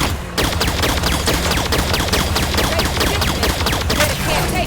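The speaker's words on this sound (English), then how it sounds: "Under fire from the bridge!" Heavy gunfire from a bridge in Halo 5 Guardians: a dense, loud, continuous fusillade of rapid shots and bursts overlapping without pause, up close.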